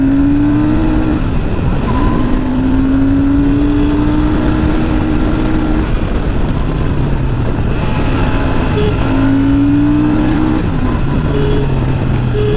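Royal Enfield Super Meteor 650 cruiser motorcycle being ridden on the road, its engine droning loudly and steadily with rising and falling pitch as it accelerates, heavy wind rush throughout.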